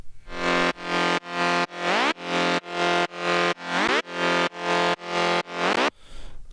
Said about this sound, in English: Here's the top bass. Sounds like this.